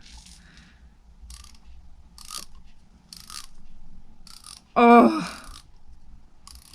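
A Snap-on ratchet screwdriver gives short bursts of close, crisp ratchet clicks in a regular rhythm, with one louder rasp partway through and a brief voice.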